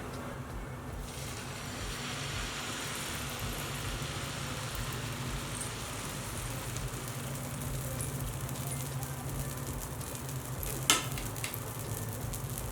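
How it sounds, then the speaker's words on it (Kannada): Sambar dosa batter sizzles faintly and steadily on a hot oiled griddle as it is spread, a low, even frying hiss with a soft low hum underneath and one brief sharp click near the end. "ಈ ಥರ ಚೆನ್ನಾಗಿ ಕೈ ಆಡಿಸ್ಕೊಂಡು ದೋಸೆ ಹಾಕ್ಕೊಳ್ಳೋಣ"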